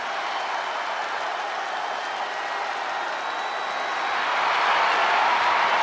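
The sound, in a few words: arena crowd cheering in video game WWE 2K25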